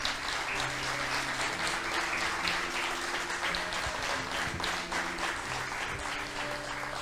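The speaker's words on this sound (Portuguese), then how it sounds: "Vamos aplaudir ao Senhor." A church congregation applauds during a worship service, a continuous wash of clapping from many hands, steady throughout with some faint voices and tones underneath.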